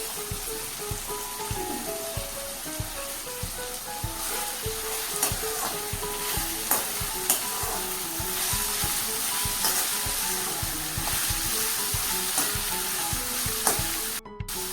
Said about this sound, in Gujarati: ત્રીસ સેકન્ડમાં આપણે ઉમેરી દઈએ કાપેલા કંટોલા